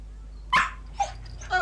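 A small dog barks once sharply and close, then gives a couple of softer yips, in a quiet interior scene from a British crime drama.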